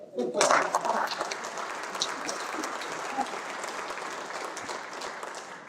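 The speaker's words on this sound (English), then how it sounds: "you can clap for Chad" An audience at a high school baseball banquet breaks into steady applause for an honoree that swells quickly and continues evenly for several seconds.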